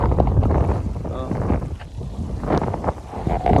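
Strong gusts buffet the microphone in heavy rumbling bursts while fishing outdoors, with a voice speaking over the blustery roar.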